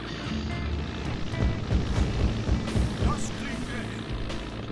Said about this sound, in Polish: O, samolot szpiegowski.